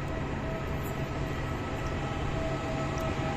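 A regional train rumbles steadily through Firenze Rifredi station in Florence on a July afternoon, with an even, close rolling roar and a faint squeal of wheels and rails. No one is speaking.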